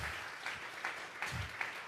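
A church congregation at a Sunday service claps together in a steady rhythm, with evenly spaced beats sounding faint and a little distant.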